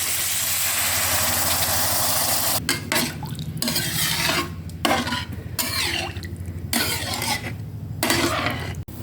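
Pork stirred with red curry paste in a pan, a spatula scraping and clattering in repeated strokes over a continuous sizzle and a low steady hum, close and loud, with no talking.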